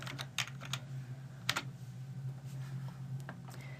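Quiet bursts of keystrokes on a computer keyboard as a fraction is entered into a math exercise, short irregular clusters of clicks over a low steady hum.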